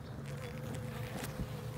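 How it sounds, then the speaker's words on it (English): Honey bees buzzing in an opened hive during a spring inspection, a dense continuous hum of many insects, close and steady, with small knocks and rustles from handling the frames. "You see there's bees in here."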